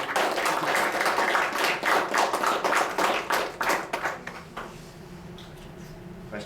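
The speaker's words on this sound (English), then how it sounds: "Could give them a round of applause." Applause from an audience after a student research internship presentation at a college, a dense burst of clapping that thins out and fades over the last couple of seconds.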